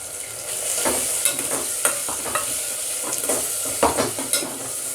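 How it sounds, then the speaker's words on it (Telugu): Gongura boti curry mixture being stirred in a pan with a steady sizzle underneath, broken by repeated scraping, clattering strokes of a spoon, close and fairly loud. "ఇలా కలుపుకోవాలి మొత్తం"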